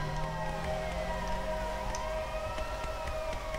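A police siren wails in the Sleeping Dogs video game, its rising and falling tones steady and moderately loud over a low background hum, with no talk.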